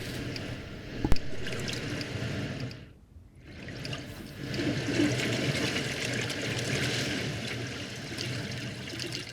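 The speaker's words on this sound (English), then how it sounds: "This is the sound design, The Ocean" Granular ocean soundscape built from audio grains in Max MSP: a steady, close wash of surf and trickling water that swells and briefly thins to near silence before rolling back in, with no voices.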